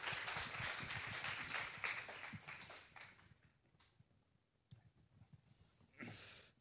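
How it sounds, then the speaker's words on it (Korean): A lecture audience claps to welcome a professor back to the front, steady dense applause that thins out midway, then swells briefly again near the end. "박수로 다시 한번 이종환 교수님 앞으로 모셔보도록 할게요"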